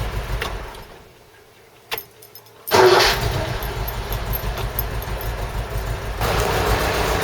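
Ford Cortina MK3 engine cranking briefly after a moment of quiet, catching with a burst and settling into a steady, close idle that carries on to the end.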